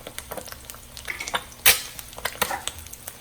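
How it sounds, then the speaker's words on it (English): An egg fries in a pan for Thai crab fried rice, with soft crackling sizzle and scattered pops, plus one sharp clink of a utensil against the pan midway. "So the egg is frying up very nicely."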